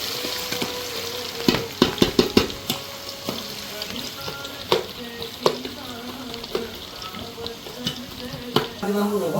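Potatoes browning in a pan, a continuous sizzle broken by repeated clanks and scrapes of a spatula stirring, with faint background voices now and then.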